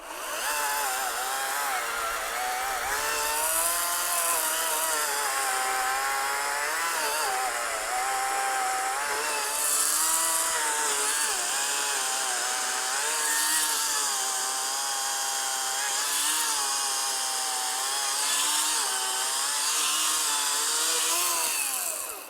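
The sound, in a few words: cordless chainsaw cutting wood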